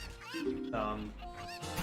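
Cucco chickens in Zelda: Ocarina of Time giving honking, squawking clucks, several brief calls in quick succession, with a voice talking faintly underneath.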